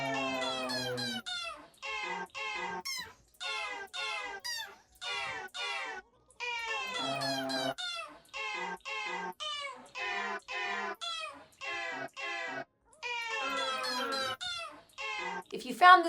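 A cat meows over and over in quick, high-pitched bursts, close and fairly steady, with short pauses between runs of calls.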